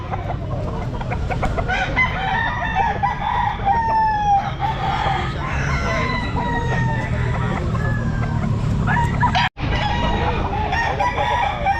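Gamefowl stag roosters crow repeatedly at a busy Mt. Banahaw Grotto pet market, several loud overlapping calls and clucks layered over constant crowd murmur and low background noise.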